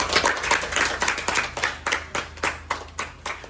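A school class claps for a group of classmates after a magnetism demonstration, separating paper clips from cereal with magnets; a short burst of close, uneven hand claps with distinct individual strikes.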